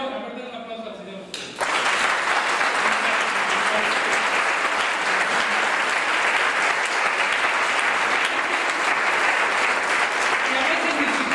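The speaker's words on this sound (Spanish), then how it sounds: "A ver, denle un aplauso al Señor." Church congregation breaks into loud, sustained applause after a brief stretch of voices, the clapping steady and dense for about ten seconds with some cheering underneath.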